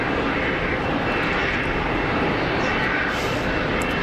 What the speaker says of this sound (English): Iberia taxiing in with the Ray-Bans on.